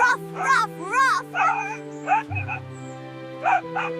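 An animated puppy yips and whimpers in short, high, pitched bursts over steady background music, close and fairly loud, with several quick calls spread across the moment.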